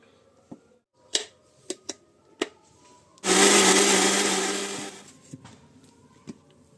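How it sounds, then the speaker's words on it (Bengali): An electric mixer grinder blends soaked sago pearls with water into paste: several sharp clicks from handling the jar, then a loud whirring burst of about two seconds that fades as it slows, followed by more clicks. "মিক্সির জার নিয়ে নিয়েছি এবার আমি সাবুদানাগুলোকে এর মধ্যে দিয়ে দিলাম জল সমেতই দিয়ে দিলাম পেস্ট যেহেতু বানানো হবে"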